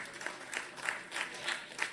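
Audience at a school science awards function applauding in a short, even burst of clapping with rhythmic peaks, moderately near and without talk.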